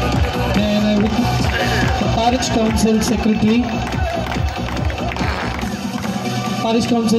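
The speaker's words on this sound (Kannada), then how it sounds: "ಜೋರಾಗಿ ಚಪ್ಪಾಳೆ ಕೊಡಿರಿ." An audience applauds at a church event for a Passion Play at St. Francis Xavier Church, Chickballapura, with sustained clapping and crowd noise under a speaker talking into a microphone and music playing in the background.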